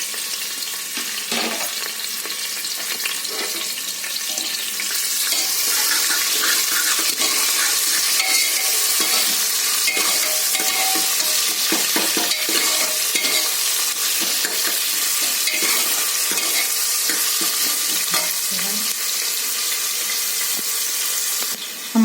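Onion and curry leaves sizzling in hot oil in a pan while being stirred, a loud continuous close hiss broken by scraping and clattering of the spoon, steady throughout with no talking.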